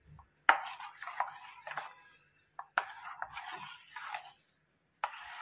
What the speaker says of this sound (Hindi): इन सभी चीज़ों को हम अच्छे से मिक्स कर लेंगे।